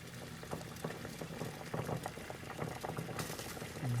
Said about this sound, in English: Now put the bottle inside the boiling water.